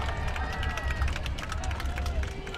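Spectators at a high school football game between Kindred and Linton-HMB roar during a fourth-and-short play, a steady, dense wash of cheering and shouting voices from the stands that holds loud and unbroken throughout, with occasional individual yells rising above the din.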